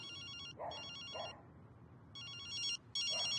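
A mobile phone rings in short repeated electronic bursts with brief gaps between them, fairly clear over a low room hum and no talking.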